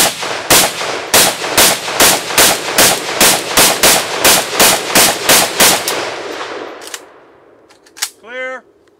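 Romanian AK-47UF rifle firing about fifteen loud, close semi-automatic shots at a steady rapid pace, followed by a short pause, a couple more sharp reports and a brief voice.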